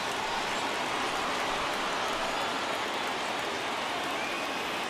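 Steady rain falling during a Major League Baseball game between the Orioles and Red Sox, a dense, continuous hiss of raindrops on surfaces with no talk.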